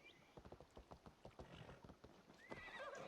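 A horse in the video game Assassin's Creed Valhalla gives a clear whinny over a run of clip-clopping hooves near a boat, ending in a brighter, higher neigh.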